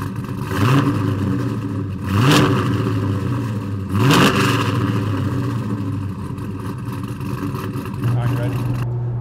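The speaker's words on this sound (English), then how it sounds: "we're cruising in the 69 Camaro" A 1969 Chevrolet Camaro pro-touring restomod with a manual transmission, driving. The engine drones steadily from inside the car, with three rising revs as it shifts through the gears before settling into a cruise.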